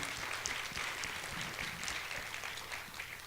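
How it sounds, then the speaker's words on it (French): An audience applauds a musician in a French-language show, a faint, steady wash of many hands clapping in the background without a break, and no talk over it. "Donc, la gang, une main d'applaudissements pour Émile."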